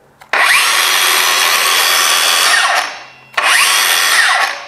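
A Bosch GKT 18V-52 GC cordless plunge saw whirs up loudly, runs steadily for a couple of seconds, spins down, then starts again, close and harsh.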